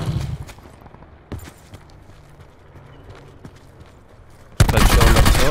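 Gunfire in the video game Call of Duty Blackout: a few faint scattered shots and footsteps give way to a loud, dense burst of rapid automatic fire at the end.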